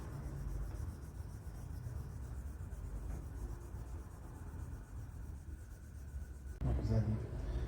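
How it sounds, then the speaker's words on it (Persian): Hand sanding of a painted surface with fine 2000 or 3000 grit sandpaper, a steady soft rasping rub held close and continuous for several seconds, growing louder near the end. "بعد از اینکه سنباده کاریمون تمام شد"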